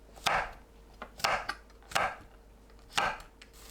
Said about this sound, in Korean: 청양고추, 홍고추는 어슷 썰어주세요.